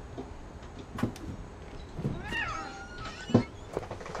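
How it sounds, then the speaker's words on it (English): A cat in the video game What Remains of Edith Finch meows once, faint and brief, among quiet game ambience and a few soft thumps. "I heard the cat."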